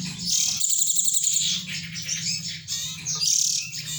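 A cinereous tit (glatik batu) sings its celilin song, a lively run of high, bright chirps and trills that repeats close and loud throughout, with a steady low background hum beneath and no voices.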